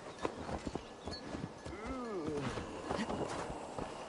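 Hooves clip-clop in a quick, uneven run of hits in Assassin's Creed Valhalla, mixed with a brief horse whinny and other game sounds at moderate volume.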